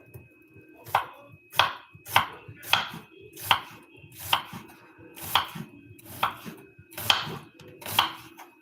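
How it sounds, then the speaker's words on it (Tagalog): Onions being chopped on a board while cooking: about a dozen crisp, evenly paced knife strokes land close and clear, with no talking over them. "Naghihiwa ako ng sibuyas."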